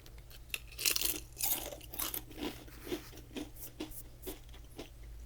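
Japanese potato chips crunched up close, with irregular bursts of crisp cracking and crinkly chewing, louder at first and then settling into steady, softer bites with no talking.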